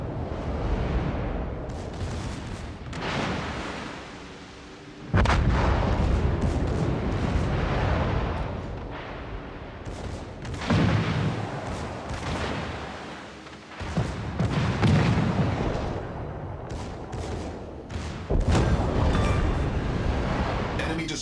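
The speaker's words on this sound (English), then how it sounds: "Destroyer blown up." Heavy explosions and booming blasts from a naval battle in World of Warships: Legends, with a destroyer being blown up; loud, repeated rumbling detonations with sudden onsets, alongside game voice callouts.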